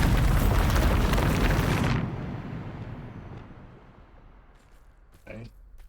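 A heavy Bombarda explosion spell from the Hogwarts Legacy video game opens loud and rumbling, a dense blast that holds for about two seconds before cutting off into a fading low tail, with a brief voice near the end.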